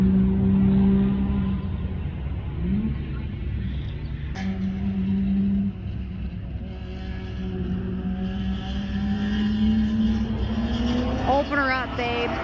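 A car on a track-night session at Shannonville, running a new angle kit setup, revs and accelerates, its engine note climbing in a steady loud drone with a rising pitch near the end, while people talk over it.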